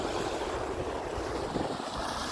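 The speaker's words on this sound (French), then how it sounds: "juste à entendre le bruit des vagues qui viennent clapper au bord tout le temps comme ça" Waves lap steadily at the shore of the Côte-Nord, facing Anticosti Island, as a continuous soft wash of surf mixed with wind rushing across the microphone.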